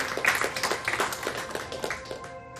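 A small audience claps for an ascended master at a spiritual gathering, producing a brisk run of close, fairly rhythmic hand claps that thin out toward the end.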